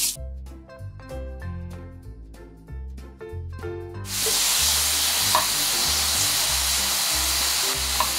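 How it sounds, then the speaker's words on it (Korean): Pork pieces searing in a preheated dry pan with no oil, a loud, steady sizzle that starts midway and continues under music playing throughout. "기름은 넣지 마시고 고기를 그냥 넣고 먼저 구워 주세요."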